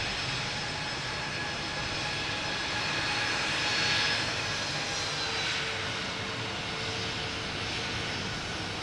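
Star Alliance liveried airliner at Boston Logan Airport, a continuous jet engine roar with a faint high whine, building gently to a peak midway then holding steady, moderately distant, no talk.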